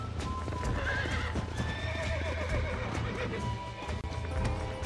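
A horse in the video game Red Dead Redemption, being broken in, trots with steady clip-clopping hooves and lets out a whinny over rumbling background game sound.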